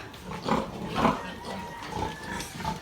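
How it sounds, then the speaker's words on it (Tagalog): Piglets on a Philippine sow-raising farm grunt and squeal in a steady run of close, overlapping oinks with a livestock pen background. "Ito yung mga biik."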